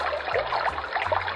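A sound machine plays a steady stream track, a continuous close trickle of flowing water with an even, unbroken wash and no voices.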